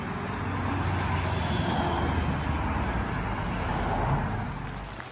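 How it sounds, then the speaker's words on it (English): Steady rain falls outdoors in a broad, continuous wash of noise that holds fairly loud through the clip and eases slightly at the end, with no voices over it. "we have a little bit of rain today"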